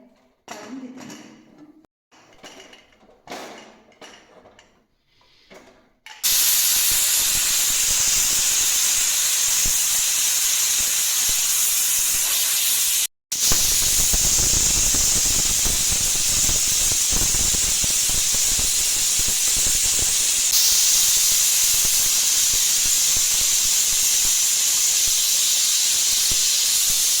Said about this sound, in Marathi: कुकरला झाकण लावून घेते आणि 5 ते 6 शिट्ट्या काढून घेते.